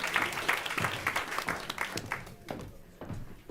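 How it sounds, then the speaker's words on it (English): Conference audience applause honoring speakers on a climate-friendly consumer options panel: dense, sustained clapping from a crowd that gradually thins toward the end. "Another round of applause, please."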